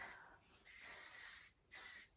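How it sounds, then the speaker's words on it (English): Hair spray sprayed liberally over hair: two close, soft hissing bursts from an aerosol can, the first about a second long and the second shorter, with a quiet pause between them. "I literally just kind of spray liberally over my hair"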